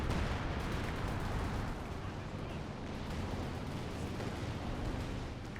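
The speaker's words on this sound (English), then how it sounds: "Artillery just hitting the front." Artillery bombarding a front line in Company of Heroes 2: a dense, continuous roar of distant shelling and explosions, steady and rumbling throughout without clear separate blasts.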